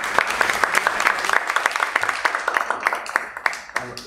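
An audience claps in sustained applause at a conference session, individual claps crisp and dense, moderately close.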